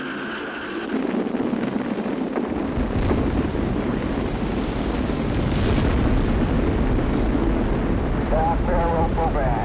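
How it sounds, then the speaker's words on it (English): Space Shuttle Columbia's main engines igniting at launch, a loud broadband rumbling roar that swells after a couple of seconds and holds steady and strong, with radio voices faintly talking over it. "We've gone for main engine start."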